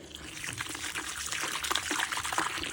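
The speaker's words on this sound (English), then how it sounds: "Just adding some water." Water being poured into a bucket of postcrete during a WW2 GMC truck restoration, a continuous splashing trickle, close and moderately loud, with no talking.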